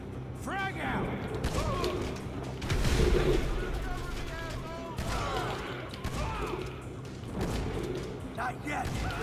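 Gunfire and a grenade blast in the video game Grand Theft Auto V, with booming thuds and scattered shots beneath shouting voices and other clattering combat noise.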